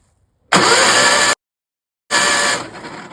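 An Onan P216 vertical-shaft engine on a Toro 616Z zero-turn mower cranks over without starting, with no spark. Two loud, steady bursts of starter cranking are separated by a short silence, the second trailing off quieter.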